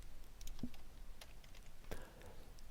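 Keys on a TI-83 graphing calculator are pressed in a few soft, sparse plastic clicks, close but very faint against a quiet room.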